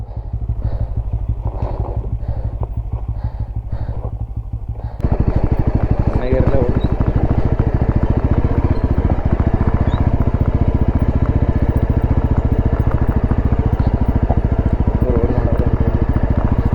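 A motorcycle riding on an off-road trail, its engine chugging steadily, then swelling louder and rougher as the bike pulls away over uneven ground. The running engine fills the whole stretch.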